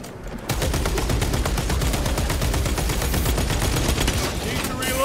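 Rapid automatic gunfire in the video game Space Marine 2, a dense, continuous stream of loud shots after a brief quiet start, with a voice speaking over it.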